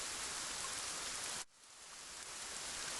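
Steady rain falling as a story sound effect, a dense even hiss that cuts out abruptly midway, then swells back in and builds gradually, with no voices.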